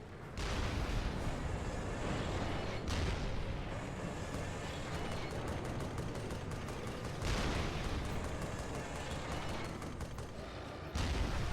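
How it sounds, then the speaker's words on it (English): Tank cannon fire in the game Resistance: Fall of Man rolls on almost without pause as dense, loud booming barrages and crackling blasts, with short breaks between volleys. "To be honest, I didn't think I'd be using a tank."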